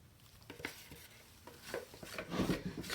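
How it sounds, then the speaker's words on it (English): Costly epoxy resin is scraped out of a container with repeated close, wet scraping and rubbing strokes, irregular and fairly quiet, without any talking. "Scrape it all out because this stuff is not cheap."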